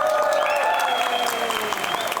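An audience at a film pre-release event claps, a brief dense burst of applause that stays loud and even throughout, with no talking over it.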